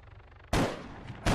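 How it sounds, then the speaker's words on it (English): Underbarrel .50-calibre weapon in Arma 3 firing at a helicopter: a loud, heavy boom breaks in after a quiet stretch and rolls on, with a second sharp blast near the end. "Trying to shoot the heli with the underbarrel 50 there again."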